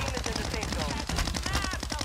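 Rapid automatic gunfire in a first-person shooter video game, loud, close bursts of shots in quick rhythm throughout, with brief voice overlapping.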